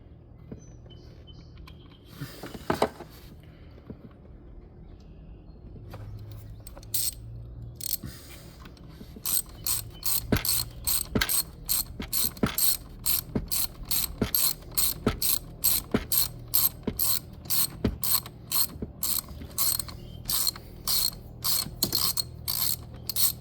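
Hand ratchet tightening battery fasteners on a 2025 Jeep Wrangler 2.0, a run of sharp rapid clicks in steady repeated strokes after some quiet handling noises, close and clear with no talk.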